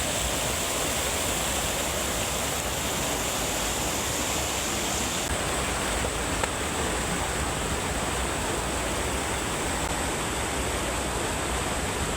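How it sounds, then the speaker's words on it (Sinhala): River water flowing steadily, a dense, unbroken rushing roar that stays loud and even throughout with no voices. "අපේ ගඟ."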